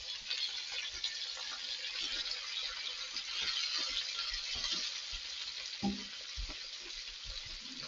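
Garlic searing in a big pan, giving a steady soft sizzle throughout with occasional clinks and stirring knocks, close by and with no talking.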